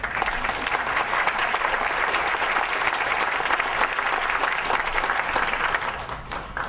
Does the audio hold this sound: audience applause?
yes